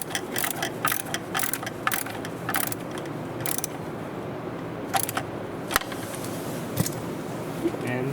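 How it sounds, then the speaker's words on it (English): A bolt on the 12V battery terminal of a Volvo XC is tightened with a ratchet, giving rapid bursts of metallic clicking with short pauses in between. The sound is close and moderately loud. "Make sure that you push the terminal all the way down, and then we can tighten this bolt."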